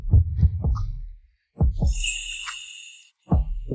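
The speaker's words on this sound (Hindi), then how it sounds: "क्या तुम मेरी धड़कन सुन सकती हो?" A heartbeat sound effect: deep, close thumping beats in paired and clustered pulses, broken by a short silence, with a high shimmering tone swelling over the middle.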